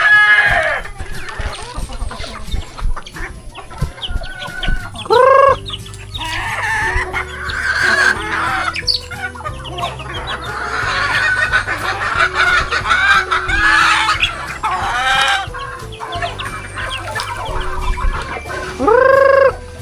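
Chickens cluck busily close by, with roosters crowing loudly a few times, including near the start and end, near a duhat tree.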